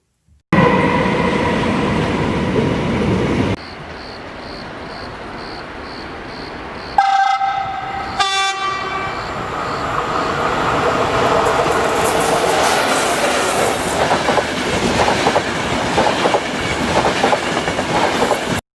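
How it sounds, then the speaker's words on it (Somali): A train rolls past loudly with a steady clattering rumble, and its horn sounds in several stacked blasts partway through before the rumble continues to the end. "tareen tareen"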